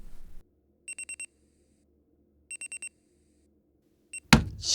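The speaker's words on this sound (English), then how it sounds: "Shut up, alarm clock." An alarm clock beeps in two clear bursts of four rapid, high electronic tones, followed by a single short beep, before a loud rustle of movement, in an otherwise quiet bedroom.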